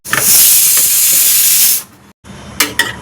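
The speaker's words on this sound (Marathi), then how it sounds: "आता कुकरचं झाका ओपन करते" A loud, steady rush of steam hisses from an opened pressure cooker of chicken curry for nearly two seconds, then cuts off abruptly, followed by a couple of soft clinks.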